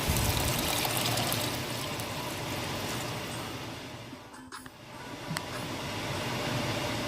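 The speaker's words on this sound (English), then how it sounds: "and then I'm going to add in my vegetable broth." Vegetable broth pours steadily into a soup pot of whisked vegan mushroom soup base, a continuous close liquid rush that briefly thins near the middle before resuming at full strength.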